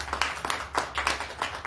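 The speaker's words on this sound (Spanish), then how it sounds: "Por favor, un fuerte aplauso" Audience applause for a speaker being introduced at a lecture, irregular bursts of hand clapping from a modest crowd, close and fairly clear.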